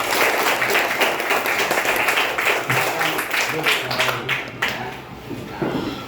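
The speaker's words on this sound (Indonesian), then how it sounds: "Oke, tepuk tangan untuk kita semua." Classroom of children clapping together in rhythmic bursts, loud and close, with voices chattering over the clapping throughout.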